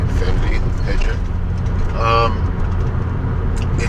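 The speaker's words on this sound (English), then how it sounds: "the car I'm driving right now, my G35, the Infinity" Infiniti G35 driving, a steady low road and engine rumble from inside the car, loud and continuous, with someone talking over it.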